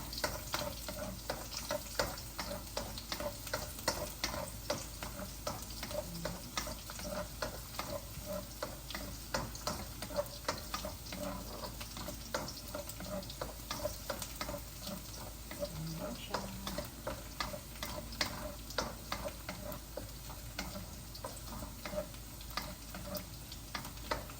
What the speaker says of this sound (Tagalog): chopped garlic. Satayin natin siya siguro ng mga 1 minute